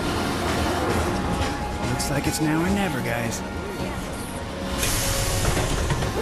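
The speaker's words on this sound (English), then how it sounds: "Miss this train and there's no telling when the next will be." Train rumble and hiss in Final Fantasy 7 Remake, a steady rolling rail noise running through the whole stretch with a voice speaking over it and game music.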